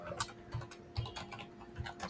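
Computer keyboard typing close and quiet, a run of light, uneven key clicks at a steady typing pace, with no one talking.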